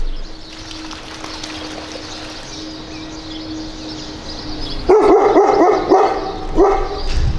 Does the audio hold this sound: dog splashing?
yes